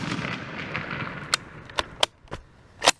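An M98/29 Persian Mauser rifle fires outdoors: sharp, loud cracks spaced over a few seconds, each ending in a short echo, after a quieter stretch of low rumble.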